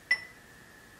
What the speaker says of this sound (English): If you left the mallet on the bar, it would sound like this.